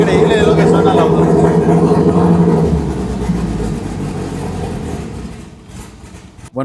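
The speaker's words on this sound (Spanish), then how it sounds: "Quiero que escuchen cómo suena. Increíble lo que suena el auto." A Toyota Caldina GT-T's engine roars loudly and close, with a dense, steady rumble that eases off and fades toward the end, while voices sound faintly in the background.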